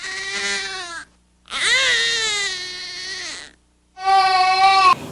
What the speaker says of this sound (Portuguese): Mas vamos notar o choro da cólica, como ele é um pouco mais agudo, ele é um pouco mais intenso